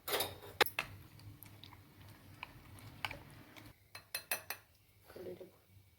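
A spoon stirs yogurt and gram flour together in a bowl for kadhi, giving quiet, irregular clinks and scrapes with brief pauses between strokes.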